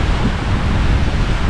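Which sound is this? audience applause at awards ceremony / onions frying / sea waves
sea waves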